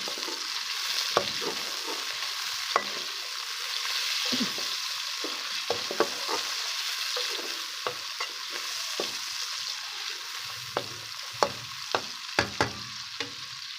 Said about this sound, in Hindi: अब इन तीनों चीज़ों को अच्छे तरीके से हम फ्राई करेंगे।